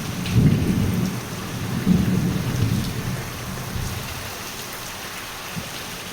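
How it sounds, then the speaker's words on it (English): A thunderstorm over Medjugorje brings heavy rain pouring steadily, with low rolling thunder swelling twice in the first few seconds before fading to a constant downpour. "you see how much it's raining here. The water is pouring down."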